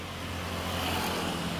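Cars pass along a motorway on a hill above a temple in Ubud, Bali, giving a steady, moderately loud roadway drone with a low engine hum throughout.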